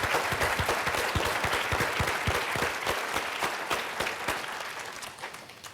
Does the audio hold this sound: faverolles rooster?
no